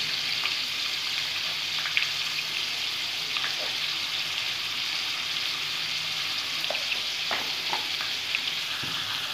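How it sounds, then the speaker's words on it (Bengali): Semolina upma with spices fries in a pan, giving a steady, dense sizzle throughout with occasional light clicks of stirring, close up and without talk. "ভালো করে ভেজে নেব"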